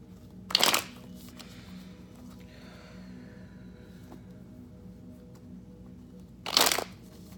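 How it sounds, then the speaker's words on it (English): Two brisk bursts of shuffling a Wild Unknown Tarot deck, one near the start and one near the end, separated by a quiet stretch with a low steady hum. "First deck shuffled."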